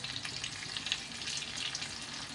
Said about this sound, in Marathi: आपण वरून पालकला घालण्यासाठी फोडणी तयार करणार आहे.